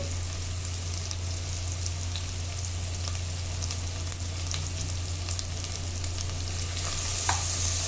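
Onions frying with a pinch of turmeric in a pan for a dried prawn and cucumber curry, giving a steady, dense sizzle with a few light crackles and a low hum beneath, continuous with no voices.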